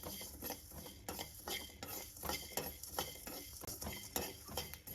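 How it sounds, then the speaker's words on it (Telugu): Fenugreek seeds, peppercorns, coriander seeds and cumin dry roast in a pan, stirred with a spoon that makes rhythmic scraping and light clinking against the metal, faint and close with no voices. "ఇదే బాండీలోకి మెంతులు, మిరియాలు, ధనియాలు, జీలకర్ర వీటిని కూడా డ్రై రోస్ట్ చేసుకుందాం"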